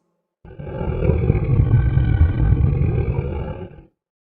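A deep, rumbling roar swells up and holds for about three seconds before fading out, loud and close with no other sounds.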